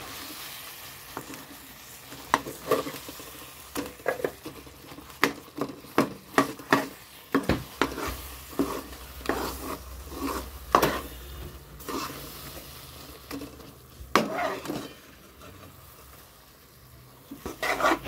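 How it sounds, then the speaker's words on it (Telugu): Ground lentil paste for ghee bobbatlu is stirred into a pan with a soft sizzle underneath and a run of irregular scraping knocks from the spoon, close by and with no talking. "ఇప్పుడు అదే దీంట్లో కలుపుతున్నాము."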